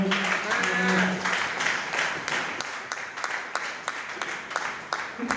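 A church congregation applauding at a Sunday service, a sustained wash of many hands clapping at close range with distinct individual claps standing out, and voices briefly heard under the clapping at the start.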